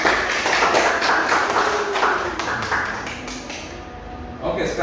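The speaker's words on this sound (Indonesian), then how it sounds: "Tepuk tangan dulu untuk kelompok." A classroom group claps together, a quick run of close hand claps forming a loud rattling burst that thins out toward the end, with voices mixed in.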